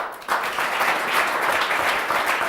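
A crowd breaks into applause at a cyclocross race event, the clapping starting abruptly after a brief quiet moment and continuing steadily and fairly loud.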